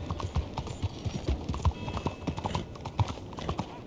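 Hooves clip-clop at a quick trot on city streets in the video game Red Dead Redemption 2, with irregular thuds and clacks at moderate volume.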